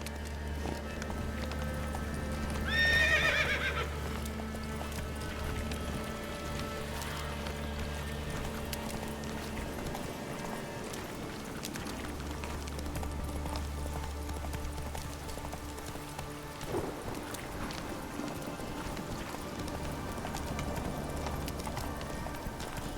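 Roach, the horse in the video game The Witcher 3, gallops with a steady run of clip-clop hoofbeats over a low rumble, and a short bright chime rings out early on.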